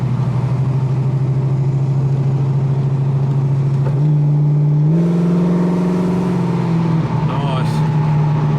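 A Holden Commodore VH muscle car with a Holden 308 V8 holds a steady, loud rumbling idle, then revs up in stepped rises and drops back, with voices talking over the engine.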